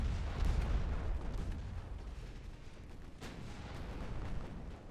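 Naval gunfire striking a warship in the game Ultimate Admiral Dreadnoughts: heavy rumbling booms and a sustained low roar of battle, fairly loud and continuous, with a sharp impact crack near the middle.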